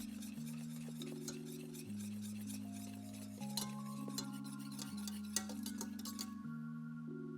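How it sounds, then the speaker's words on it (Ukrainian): Eggs are whisked vigorously into a honey mixture, the whisk clinking rapidly against the bowl under steady background music. "Активно перемішуючи, щоб яйця не зварилися, додаю їх до медової суміші."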